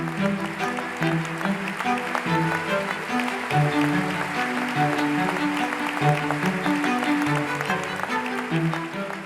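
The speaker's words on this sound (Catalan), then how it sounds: "Un aplaudiment per ells." An audience applauds researchers at an annual Alzheimer's research gathering, with steady clapping running throughout while music plays underneath.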